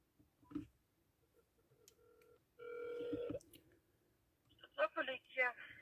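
Phone tones sound as a call goes to the 102 police number in Kropyvnytskyi, Ukraine: a short dial beep, then a steady ringback tone, followed by clicks and brief muffled voices.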